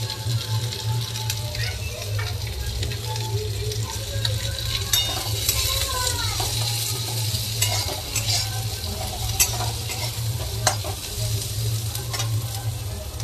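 Onions and slit green chillies frying in a pan, stirred with a utensil; a steady broadband sizzle runs throughout with intermittent scraping strokes of the stirring, close and fairly loud, with no talking.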